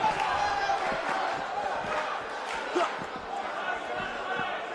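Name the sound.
crowd in a wrestling arena in video game WWE 2K19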